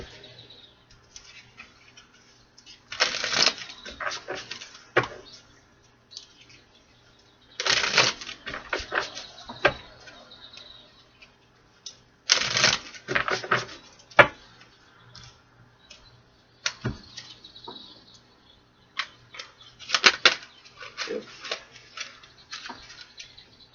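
Cards from a Divine Masculine deck shuffled and drawn in a quiet room, coming as bursts of crisp riffling and clicking spaced a few seconds apart, with soft slides and taps in between.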